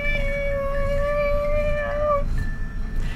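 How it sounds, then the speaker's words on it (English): A motorized desk lowers into sitting mode, emitting a steady tonal motor whine for about two seconds before cutting off, over a noisy room background. "my desk can turn into sitting mode in case you're wondering what that noise is"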